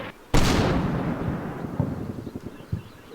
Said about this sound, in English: the enemy's firing some mortars back at us